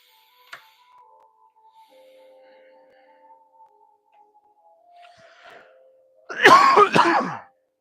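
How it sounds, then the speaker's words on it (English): A single harsh cough bursts out near the end after a long, mostly quiet stretch with a faint tone in the background. "There's like a really strong cough wanting to come through."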